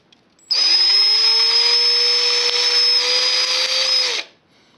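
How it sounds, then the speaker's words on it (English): A small electric drill bores axle holes in plastic bottle tops, a steady high motor whine running unbroken for about four seconds before spinning down. "I need to drill little holes for the axles to get in"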